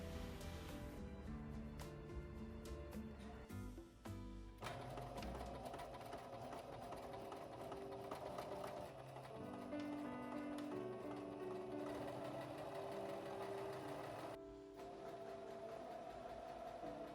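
A sewing machine stitches seams with a 1 cm allowance in a steady, fast mechanical whir that runs almost unbroken, with a couple of brief pauses between bursts.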